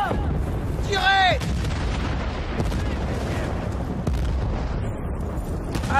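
Gunfire and explosions in the video game Battlefield Bad Company, with continuous heavy shooting and booms under rumbling battle noise and whistling sweeps, loud and close, while voices shout over the action.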